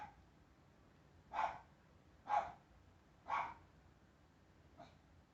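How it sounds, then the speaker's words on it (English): A dog barks four times from downstairs, slightly distant and muffled, in evenly spaced single barks with the last one fainter, over a quiet room. "Don't know what Sadie's barking at out there."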